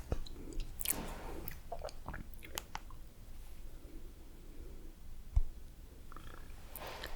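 Soft, close chewing and crunching of McDonald's food, with wet, irregular bites and small clicks in a quiet room and no talking.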